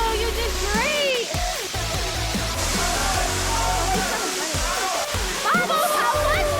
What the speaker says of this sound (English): I mention that this is a 180-foot waterfall?